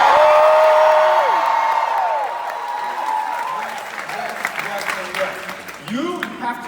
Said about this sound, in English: Y'all cheer louder for me and Lois.